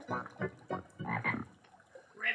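A frog croaks in a quick string of about five rhythmic, throaty pulses, close and moderately loud, followed by one more croak after a short gap.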